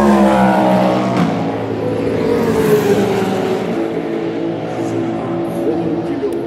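Race cars at the 2025 24 Hours of Le Mans Hyperpole roar past, engines loud and droning with shifting pitch as they pass, under continuous French commentary.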